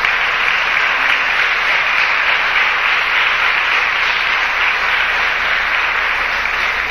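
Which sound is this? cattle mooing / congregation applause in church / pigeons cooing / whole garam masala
congregation applause in church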